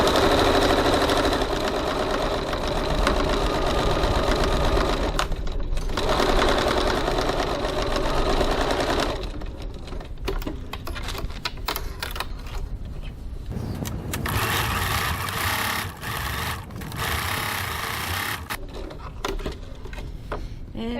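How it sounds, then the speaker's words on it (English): A sewing machine runs in long bursts stitching the two long side edges of a fabric crossbody bag, motor whirring steadily with short pauses between seams, close and loud without speech. "to the sewing machine and stitch those two sides"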